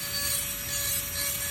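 A hand carving tool lightly smoothing the wood of an owl carving's feather groupings, a soft steady scraping rub close by, quiet and continuous, with a faint constant tone underneath.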